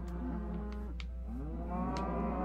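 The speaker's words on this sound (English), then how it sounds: "all these cows back to our farmlands" Cattle mooing in the video game Minecraft, several drawn-out moos overlapping one another over a steady low hum, fairly close and loud, with no talking.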